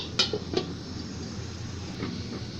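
A metal lid clinks onto a cooking pot of beef and potato masala, with two quick close taps followed by a softer clink against a quiet background.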